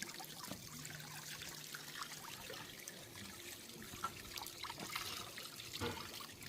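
Spring water from the mountains trickles and splashes at a grotto shrine, a soft continuous dribbling with faint outdoor ambience and occasional small splashes.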